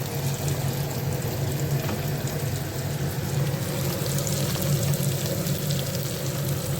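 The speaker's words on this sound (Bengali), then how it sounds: "এখানে সব যেটা ম্যারিনেট করে রেখেছিলাম ওইগুলি ভাজলাম হালকা করে, আর একটুখানি ভাজবো 1-2 সেকেন্ড" Marinated paneer fries lightly in hot oil with a steady, dense sizzle that holds evenly throughout, close and fairly loud with no pauses.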